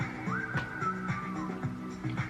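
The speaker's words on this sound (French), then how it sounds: "Ce sifflement perpétuel." A clear, sustained whistled melody glides and holds over a steady K-pop backing with a regular beat, fairly prominent in the mix.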